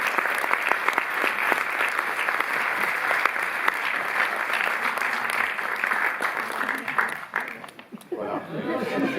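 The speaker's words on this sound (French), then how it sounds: "vous pouvez applaudir Françoise Lebrun" Audience at the Cinémathèque in Paris applauds actress Françoise Lebrun during a retrospective opening, a dense steady clapping from a large room, with chuckles and murmurs mixed in, fading near the end.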